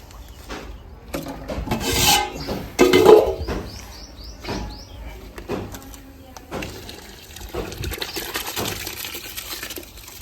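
Rice being poured into water in a pot for country chicken biryani cooked over a wood-fired stove, giving scraping, rubbing and splashing sounds that rise and fall.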